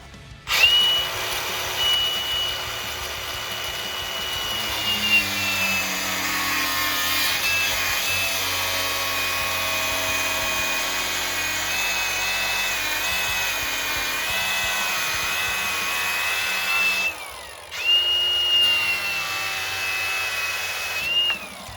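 A power tool whines steadily while cutting plastic trim on a Ford Excursion in a garage, a continuous loud drone that dips briefly near the end and then resumes, with no talking.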